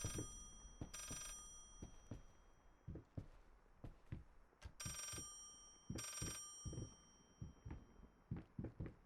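A telephone in the horror game Layers of Fear rings in short repeated bursts of bright bell tones, mixed with thumping game sounds and clatter between the rings.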